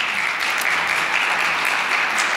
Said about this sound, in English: I'll just make you keep clapping